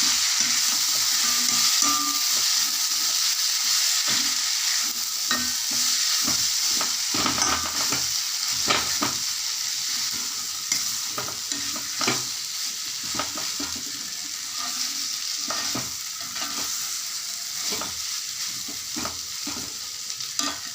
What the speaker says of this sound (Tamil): இப்போ நாம் பொடிச்சு வச்சுருக்க இட்லி இதோட சேர்த்திக்கலாம் சேர்த்தி விட்டு நல்லா கலக்கிக்கலாம்